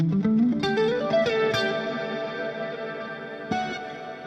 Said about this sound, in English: Take the top end off that reverb.